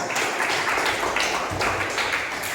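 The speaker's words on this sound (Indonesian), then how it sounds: "Bagus sekali, tepuk tangan" Students in a classroom clap loudly and close by, the hands striking in a rhythmic pattern of quick repeated bursts that carries on steadily without any talking.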